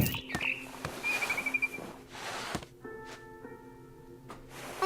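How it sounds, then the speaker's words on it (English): A short run of high barn swallow chirps from a video game rises briefly over a quiet indoor background, followed by a steady electronic tone and a few soft knocks. "Then I heard chirping outside my window. It was a barn swallow going back to her nest."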